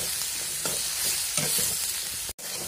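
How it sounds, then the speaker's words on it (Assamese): Pork frying in a pan with ginger and garlic, stirred in a Mising-style home kitchen: a steady loud sizzle broken by a few scraping stirs, then a brief dropout near the end. "চ' ভালকৈ লৰাই দিম এতিয়া,"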